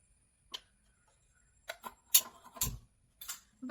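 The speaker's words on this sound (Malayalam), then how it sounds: "ഇത് നമുക്ക് ഗ്യാസിൽ വെച്ച് കത്തിക്കാം." A kitchen gas stove is lit for cooking, with a handful of crisp igniter clicks and ticks spaced unevenly over a few seconds in an otherwise quiet room.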